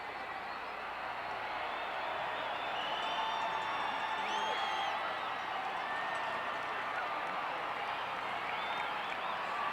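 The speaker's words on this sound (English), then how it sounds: "There is just really a roar from people." Crowd roaring and cheering along the route of a 1987 World Series championship parade for the Minnesota Twins, a steady dense wall of voices and applause that holds for the whole stretch.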